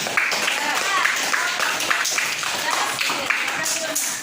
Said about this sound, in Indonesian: Ya, tepuk tangan dulu buat kelompok.